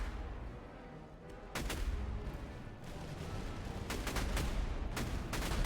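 Gunfire and artillery striking grenadiers in the battle game Master of Command, a dense crackle of musket volleys and rumbling cannon blasts with repeated sharp reports, steady and continuous.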